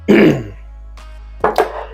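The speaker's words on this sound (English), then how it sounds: "I'm trying to clear my throat." A person clears their throat, with a harsh rasp up front, a short pause, a tiny catch, then two quick rough bursts close to the microphone, all alone without speech.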